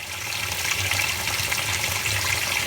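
Washing machine filling with hot water on a low water setting, a steady rushing hiss of running water at moderate level throughout.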